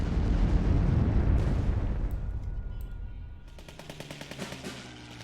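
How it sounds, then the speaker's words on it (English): A bombing attack in the card game KARDS, a loud rumbling explosion that fades gradually, followed by a softer rapid rattling like distant gunfire. "we're gonna start by bombing this guy"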